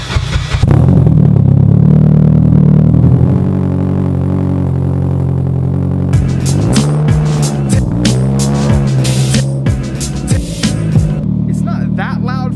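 A Mitsubishi Evo X with a very loud exhaust roars close by, holding a heavy drone before revving up and down in rising and falling sweeps with sharp crackling pops, loud and alone throughout.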